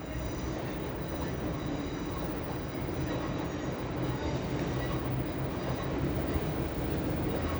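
A Class 195 diesel multiple unit departs Leeds station on the East Coast Main Line, its steady engine roar and rolling wheels rumbling loudly and continuously throughout, with faint squeals from the rails.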